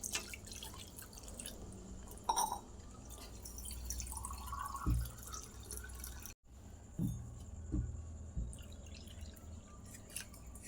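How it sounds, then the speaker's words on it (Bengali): Water is poured into a simmering curry to make a thin broth, heard as faint, scattered splashes and drips in a quiet kitchen. "এবারে জল দিয়ে দেবো ঝোল ঝোল রাখবো তাই জন্য আরেকটু জল দেবো সেদ্ধও হবে"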